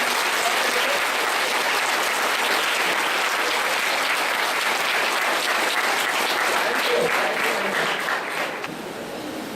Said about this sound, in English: I would like you to just give a big clap, warm up clap.